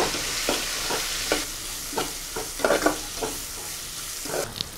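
Onions frying in a pan for a mullet fish curry, a soft steady sizzle under repeated scraping stirs with a ladle, roughly one stroke every half second, close and moderately loud.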